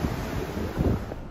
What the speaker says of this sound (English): Watching the waves is mesmerizing as we walk our laps.